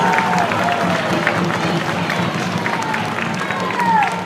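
An audience at a school spring concert applauds the band with steady, dense clapping that holds at an even level throughout, with a faint murmur of voices mixed in.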